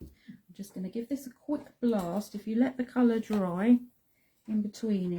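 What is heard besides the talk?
None of the usual background noises is heard.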